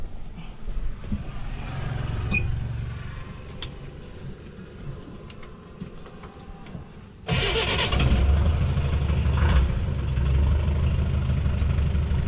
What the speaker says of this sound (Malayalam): എഞ്ചിൻ്റെ സൗണ്ട് നിങ്ങൾക്ക് കേട്ട് പരിചയമുള്ള ഹിന്ദുസ്ഥാൻ മോട്ടോഴ്സിൻ്റെ സെയിം എഞ്ചിൻ തന്നെയാണ്.